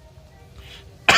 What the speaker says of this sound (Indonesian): aduh batuk teman-teman, kebanyakan bercanda sampai batuk ya